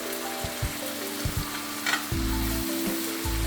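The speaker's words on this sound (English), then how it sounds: "And I go ahead and add my green veg, which is the spinach." Spinach hits a hot pot and fries with a steady, close sizzle and hiss, broken by a few soft stirring knocks, with no voices.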